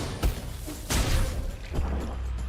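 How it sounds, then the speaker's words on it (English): Explosions in the video game Nine Sols, a few heavy booming thuds with brief whooshing bursts, one big blast near the middle, close and fairly loud, with no voices. "Just a bit I hit that explosion"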